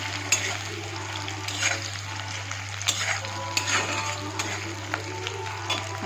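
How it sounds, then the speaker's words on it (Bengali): Onions fry in a pan for mutton kasha, a steady crackling sizzle with occasional clinks of stirring over a constant low hum, no voices. "পেঁয়াজগুলো মোটামুটি ফ্রাই হয়ে আসছে, আর অল্প 2 মিনিটের মতন ভেজে নেব এগুলাকে"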